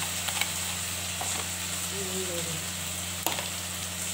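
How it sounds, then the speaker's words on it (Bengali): Ginger, chilli and cumin paste with turmeric and salt sautéing in a pan, a steady close sizzle with faint stirring scrapes and one sharp clink partway through. "এবার ভালো করে কষাতে হবে"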